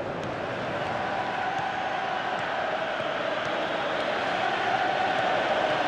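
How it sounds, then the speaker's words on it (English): A stadium crowd in the PES 2018 football video game keeps up a steady, loud, unbroken roar throughout, with no talk over it. "Crowd calling for him to shoot."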